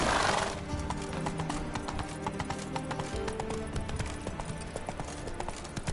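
Roach, the horse in The Witcher 3, clip-clops steadily in a close, continuous hoofbeat rhythm with occasional whinnies, set against a busy game soundscape of music and ambience.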